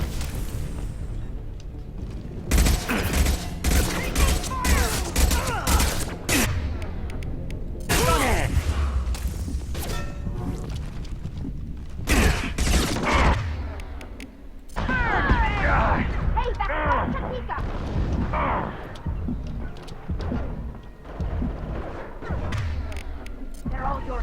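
Gunfire, blasts and whooshing effects from the video game Mass Effect 2, a dense loud run of repeated bursts with short gaps, mixed with voices talking throughout.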